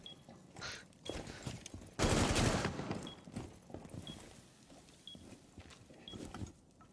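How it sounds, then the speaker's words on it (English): Video game gunfire crackles in short bursts through the scene, with one loud, dense volley near the middle and quieter shots and clicks around it, all fairly low in level. "Shoot at him, not at the wall."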